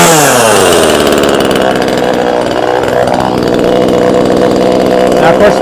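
A gas chainsaw runs loud and close as it warms up after being pull-started, holding a steady high buzzing whine that sags slightly midway, then evens out at a constant idle-to-rev drone.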